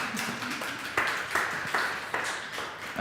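An audience at a scholarship info-day presentation at the Hamburg Institute for Advanced Study gives a brief, fairly faint round of applause, sparse individual claps in a room.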